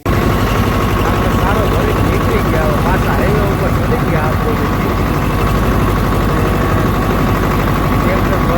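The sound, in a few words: tractor engine running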